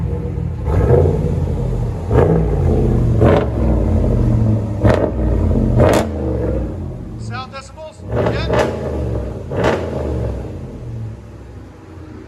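RAM 5.7L HEMI truck engine with an aftermarket exhaust revving hard in repeated bursts up to the rev limiter, loud and close, with people talking over and between the revs.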